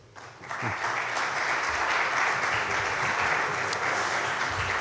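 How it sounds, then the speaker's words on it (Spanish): An audience at a book presentation breaks into welcoming applause, sustained dense clapping that swells quickly and holds steady. "les voy a pedir que les den a nuestros invitados un aplauso de bienvenida."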